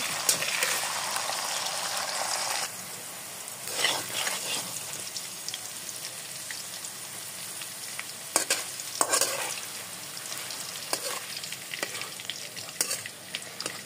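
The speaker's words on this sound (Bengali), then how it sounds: "তেলের মধ্যে আলুগুলোকে দিয়ে এবার হালকা করে ভেজে নিতে হবে।" Potato pieces frying in oil with salt for vegetable khichuri, a continuous close crackling sizzle with scattered spatula scrapes and stirring clatter through the middle and end, no talking.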